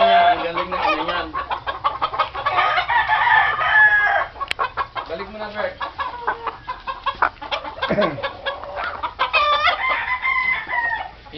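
A gamecock crows and clucks repeatedly up close, the calls loud and broken into bursts, with someone briefly speaking among the bird sounds.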